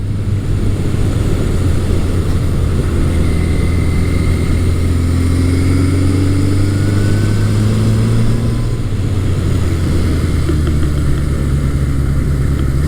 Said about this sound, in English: this bike has such nice pickup as soon as you start to twist the throttle.